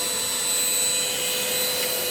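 A Shark UltraCyclone Pet Pro Plus handheld vacuum cleaner runs continuously while cleaning a car interior, a loud, steady, high-pitched motor whine with no talk.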